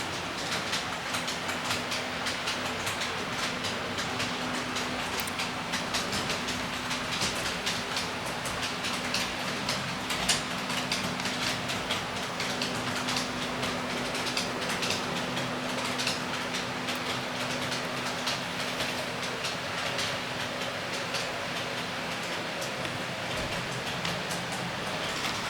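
A model train locomotive runs along the Kampala Rd layout with a steady rolling rumble and faint clickety-clack of wheels on track, continuous and fairly close, no voices.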